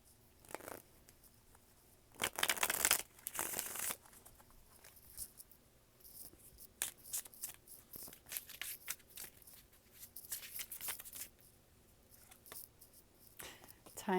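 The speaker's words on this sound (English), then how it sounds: "All right, one more shuffle." A rebel card deck is shuffled up close in several quick riffling bursts, the loudest coming early, with soft shuffling rustles between them in an otherwise quiet room.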